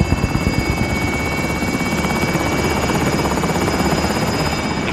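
Attack helicopter in Call of Duty: Modern Warfare, a loud continuous rotor thrum with rapid blade chop and a steady engine whine, close and unbroken throughout.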